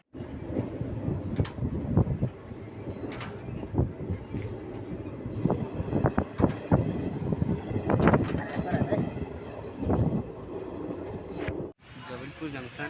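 A train rumbles and clatters at Jabalpur Junction railway station, with rhythmic wheel clacks and metallic knocks, heard near under steady people's talk on the platform.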